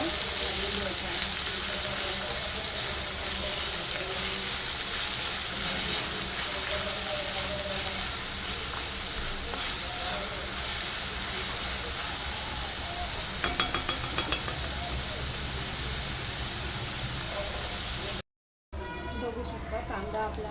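Chopped onions frying in a pan for dhaba-style egg masala, a steady broadband sizzle that runs throughout with faint clinks, interrupted by a brief cut near the end.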